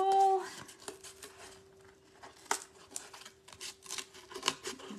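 Scissors snip through fabric to cut out a circle for a patriotic fabric flower, a series of soft, close crinkly cuts with small rustles and taps between them and no talk.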